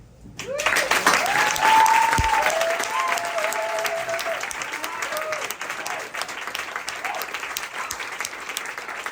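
Crowd applause at a senior ceremony, sustained clapping from many people with a few cheering voices rising early on, holding steady and slightly fading.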